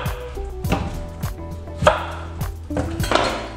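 A knife cuts a large onion into quarters on a cutting board for homemade chicken stock, giving a series of sharp, close, irregular thuds and crunches with no talking.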